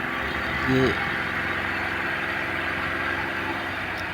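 A tractor engine labours close by while pulling out of a muddy rice paddy, a steady loud drone with a brief tonal rise near the start and a voice speaking over it.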